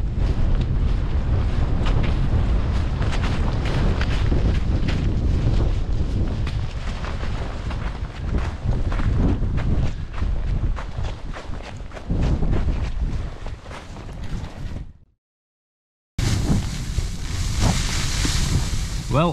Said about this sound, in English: It's just occasionally you just get a little bit of blustery section like that.